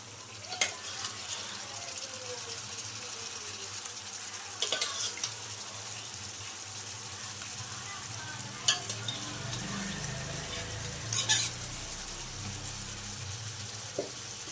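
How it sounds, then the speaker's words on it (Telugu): Cooked mutton for mutton chukka being stirred and fried in a pan, a continuous moderate sizzle with occasional sharp scrapes and clinks of the spoon against the pan, close and without talk. "ఇలా వేసుకున్న మటన్ని మొత్తం కలిపేసుకోండి."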